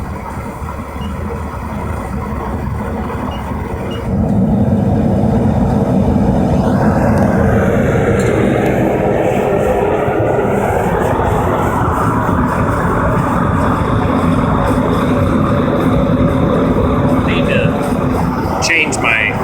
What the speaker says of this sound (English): This is when the fun happens, when you turn the blower on.